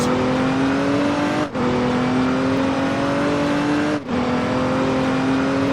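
A regular car drives along with a steady, loud engine drone and a slowly rising pitch, broken twice by brief dips, with no voices.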